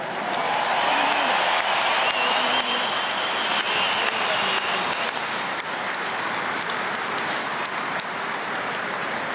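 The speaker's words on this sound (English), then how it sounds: "so you guys deserve a massive round of applause" Loud, sustained applause from a large crowd for the team after the 2018 Dublin v Tyrone final, continuous and dense throughout, with some voices faintly mixed in.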